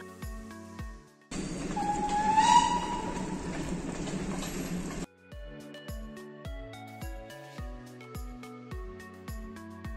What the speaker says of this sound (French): il y a même un petit train, le petit train des Cévennes qui relie Anduze à la gare de Saint-Jean-du-Gard